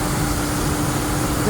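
A 2005 GMC Envoy Denali engine idles after an upper radiator hose replacement, a steady, even low hum with faint broadband noise, constant level and no talking.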